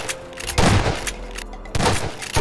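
Garry's Mod gunfire hammering breakable doors comes as two loud, separated bursts of booming shots with short quieter gaps between, no talk over them.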